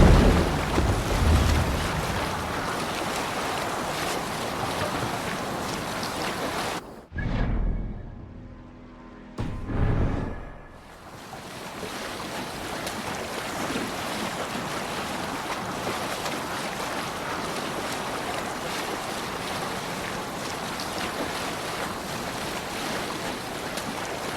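A Viking longship under sail in Assassin's Creed Valhalla, with a steady wash of waves and wind rushing loudly around the hull, broken once by a brief drop to near quiet before the surf noise returns.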